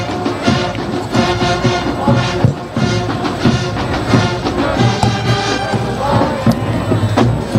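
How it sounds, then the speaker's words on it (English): A large crowd at a St. Augustine high school football homecoming game in New Orleans roars steadily on a sunny afternoon, with bursts of cheering, horn blasts and band noise mixed into the continuous din. "Excellent crowd on hand for St."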